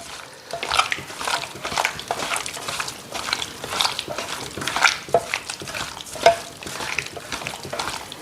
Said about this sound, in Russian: Перемешаем наше мясо без лука.